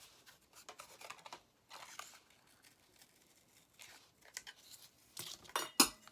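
Snips and crinkles of cutting the cardboard top of a salt box, quiet and close, coming in short irregular bursts with pauses and a sharper crunch near the end, with no talking.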